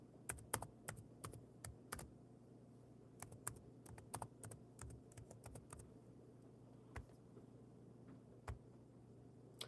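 Someone types on a computer keyboard in irregular bursts of sharp clicks, quick clusters then pauses, close but quiet in a calm room.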